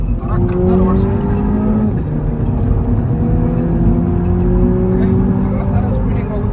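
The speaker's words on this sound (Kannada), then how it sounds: "ಯಾವ ಥರ ಸ್ಪೀಡಿಂಗ್ ಹೋಗುತ್ತಂದ್ರೆ ಸೌಂಡ್ ನೋಡಿ ಯಾವ ಥರ ಬರ್ತಾ ಇದೆ. ಎಕ್ಸಾಸ್ಟ್ ಸಕ್ಕತ್ತಾಗಿದೆ ಸೌಂಡ್ ಇದ್ರದ್ದು ಮಾತ್ರ." A Mini hatchback speeding along, its exhaust droning loud and steady with rising and falling engine tones close up, while someone talks over it.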